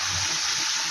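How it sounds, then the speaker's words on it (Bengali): Water is poured into a ground paste of mustard, poppy seed and green chili for a Bengali sorshe jhal curry, a steady close gushing splash throughout the brief moment. "এইটা অ্যাড করে এবার এর মধ্যে জল মিশিয়ে দেবো।"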